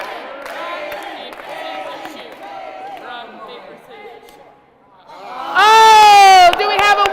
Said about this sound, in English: Y'all got to cheer them on.